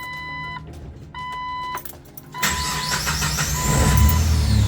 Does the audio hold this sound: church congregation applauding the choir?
no